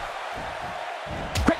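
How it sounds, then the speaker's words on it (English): A quick punch lands in the WWE 2K17 wrestling video game during a match in Dallas, a single sharp slap-like impact near the end of a short stretch of steady crowd noise, with a commentator talking. "Quick punch."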